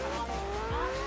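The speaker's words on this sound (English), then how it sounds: "I'm just gonna use the car that I'm in, which is a Porsche 918 Spyder" Porsche 918 Spyder driven in Forza Horizon 3, a steady engine drone with rising tonal whine and a brief low thump, continuous and fairly loud throughout.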